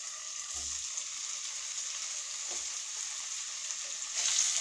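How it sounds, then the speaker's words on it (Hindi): Paneer frying in hot oil in a pan, a steady faint sizzle with a couple of soft low knocks and a brighter hiss swelling near the end. "अब हम पनीर को फ्राई करेंगे।"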